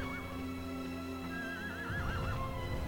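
A horse in the video game Shadow of the Colossus lets out a loud, wavering whinny midway, close and clear, with hoof clip-clops from the game sounding around it.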